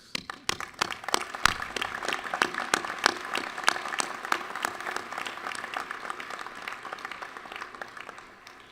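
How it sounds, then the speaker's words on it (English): A large audience at Dominican University New York's 69th commencement ceremony claps in sustained, dense applause that holds steady and slowly tapers off. "you deserve a huge round of applause"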